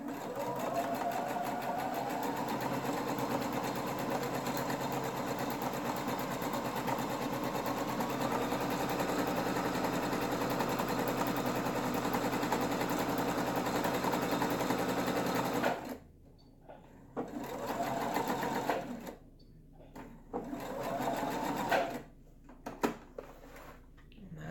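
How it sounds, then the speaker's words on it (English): A sewing machine stitches straight up the side of a fabric bag, a steady, close, whirring mechanical drone for about fifteen seconds, then stops and starts in short bursts as it reverses back and forth at the end. "I am just going to sew straight up the side. I'm going to reverse back and forth just to give it a little reinforcement"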